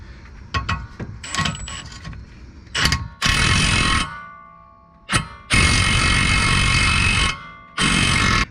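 Suspension bolts and a nut are tightened with a 15/16 socket on a Chevy Traverse or GMC Acadia. Close, loud bursts of harsh mechanical whirring come in several separate runs, with short clicks and pauses between them.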